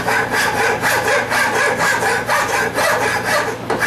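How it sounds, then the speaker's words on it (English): A wood rasp works a wooden handle in repeated rhythmic strokes, a close, loud scraping and rubbing that continues steadily with no talk. "Just kind of rasping it out"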